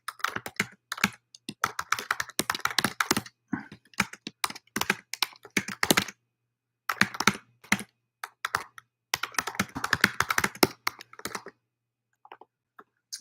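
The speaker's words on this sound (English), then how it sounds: "let me write down one of them in our chat" Rapid bursts of typing on a computer keyboard, close and crisp, with key clicks in irregular flurries separated by short pauses and a longer silence near the end.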